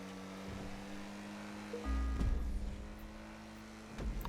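A fully upgraded Lampadati Komoda races in the GTA video game, its engine droning steadily and then surging into a louder low rumble midway, with brief bumps and no talk.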